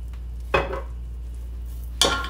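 A spoon scrapes and clinks in a pan of garlic with butter and oil, two short sharp strikes over a quiet steady hum.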